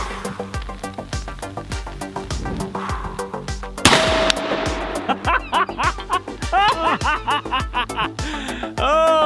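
A Desert Eagle pistol fires repeatedly at an AR500 steel target outdoors, each sharp shot followed by a bright metallic ring from the steel, with the hits coming in a steady, rapid series.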